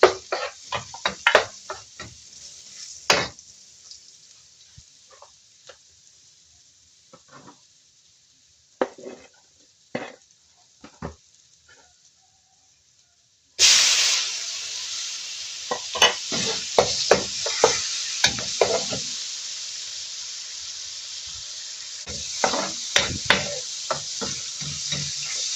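Oil sizzles in a frying pan while mung beans are sautéed, with clattering stirring strokes over the steady hiss, which turns louder and more continuous partway through as fresh ingredients go in.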